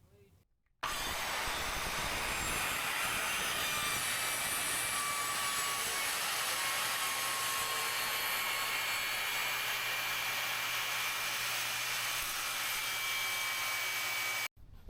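Evolution track saw making a cut: a loud, steady high whine that runs for about fourteen seconds without a break, then stops abruptly.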